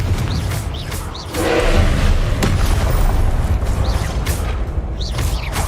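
Booming fire-spell blasts from the Hogwarts Legacy video game, with a sustained roaring low rumble swelling after a sharp hit near the middle and several bright whooshing bursts over it, loud and continuous.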